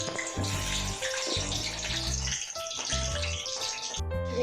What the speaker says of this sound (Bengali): তেল গরম হয়ে গেছে, এবার এতে আলুগুলো দিয়ে দেবো আস্তে আস্তে।